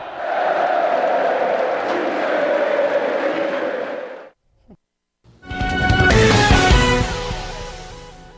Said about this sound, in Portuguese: ao menos os aplausos emocionados da torcida, esses sim, serão os sons que Tite vai guardar como um troféu